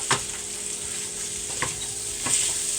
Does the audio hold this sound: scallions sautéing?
yes